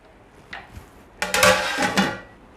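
A metal lid is set down on a cooking pot of vegetable biryani, giving a short clatter and ringing clang up close, preceded by a faint earlier tap, with no talking.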